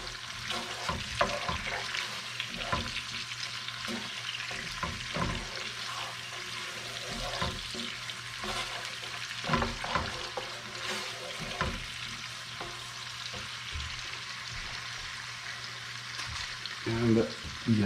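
Garlic fries in a pan with a steady, close sizzle that goes on throughout, with occasional clinks and stirring sounds mixed in.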